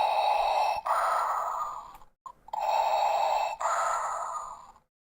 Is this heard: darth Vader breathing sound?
yes